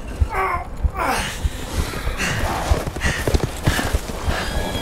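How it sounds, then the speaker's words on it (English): Horse hooves clip-clop in Resident Evil Village, a steady rhythmic clatter under game ambience with scattered vocal noises. "Oh, they got horses!"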